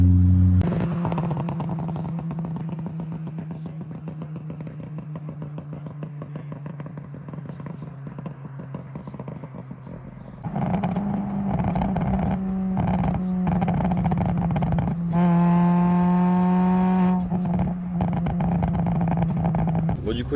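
A Peugeot 206 RC with a 180 hp engine revs hard nearby, its exhaust crackling and popping like gunfire over a steady loud idle, with a higher sustained rev near the end.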